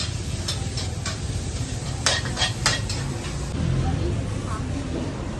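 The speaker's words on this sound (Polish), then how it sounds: "pani tam elegancko miesza już mięsko." Metal utensils clink and scrape against a pan as meat is stirred at a busy, noisy night market stall on Koh Samui, Thailand, with a faint sizzle and voices chattering in the background.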